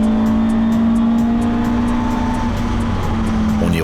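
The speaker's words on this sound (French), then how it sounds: "de jolis passages de voitures que nos parents et nos grands-parents ont conduites sur les routes en leur temps, avant 1966" Classic pre-1966 touring race cars, Austin Mini Coopers, Alfa Romeo Giulia Sprint GTA coupés and Ford Mustangs, roar loudly past on the Mugello circuit, a continuous dense engine drone with a steady pitched tone and no voices.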